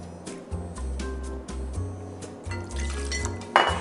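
Patron Reposado tequila poured into a mixing glass, with a short liquid pour and light glassy clinks close up, no talk.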